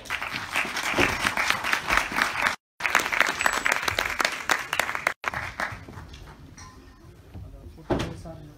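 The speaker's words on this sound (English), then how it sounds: "Please clap." An audience applauds a visiting hydrology professor before his talk, dense sustained clapping cut by two brief dropouts, then fading to sparser claps with a short swell near the end.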